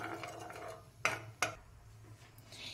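Quiet stirring in a pan of boiled, thickened milk, with two sharper clinks of a spoon against the metal side about midway and soft scraping around them.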